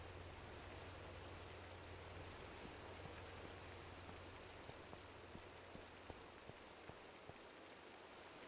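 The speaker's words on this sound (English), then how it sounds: "Sounds like it's day, but it's raining, yeah." Steady rainfall in the Minecraft modpack GregTech New Horizons, a continuous hiss of rain on surfaces with faint scattered drop ticks, moderately quiet and alone without talk.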